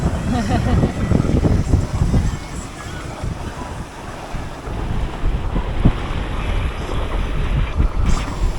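A sailboat runs downwind on the Inside Passage in sunny, warm weather, with water rushing and slapping along the hull under heavy wind buffeting on the microphone, and voices talking over it.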